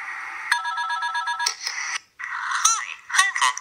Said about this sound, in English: Wait a minute, is that my phone?